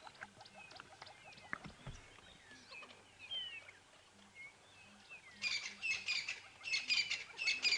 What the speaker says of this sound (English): There's a cacophony of bird calls going on at the moment.